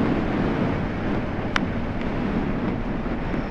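Strong wind blowing across a seaside kitesurfing spot, a constant loud rushing buffet on the microphone with a faint surf-like wash underneath and one brief click midway.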